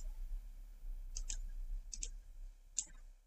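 A computer mouse clicks in quick pairs and singles, three or four crisp close clicks spaced about a second apart over a quiet room background.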